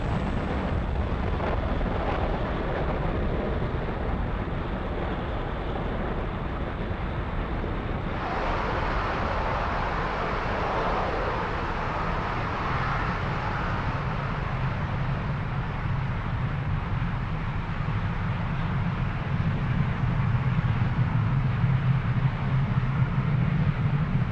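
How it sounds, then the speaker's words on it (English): A SpaceX Falcon 9 lifts off from Pad 40 at Cape Canaveral Space Force Station carrying the Eutelsat-10B satellite. Its engines give a steady, loud, broadband roar that rumbles on without a break through the ascent. "Falcon 9 has successfully lifted off from Pad 40 at Cape Canaveral Space Force Station, carrying the Eutelsat-10B satellite."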